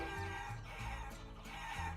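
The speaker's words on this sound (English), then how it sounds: "But they were only chickens" Cartoonish chickens cluck and crow in the Guacamelee video game, a steady layered flock sound mixed over game music that runs throughout.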